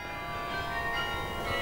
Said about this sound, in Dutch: De kerkklokken van de Martinustoren.